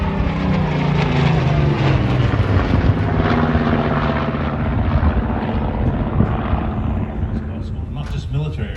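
A vintage aircraft engine at the Omaka Classic Fighters airshow drones with a loud propeller roar that gradually fades into the distance, while a commentator talks over it.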